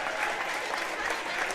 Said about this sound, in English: Everybody giving Coach Jones a huge round of applause.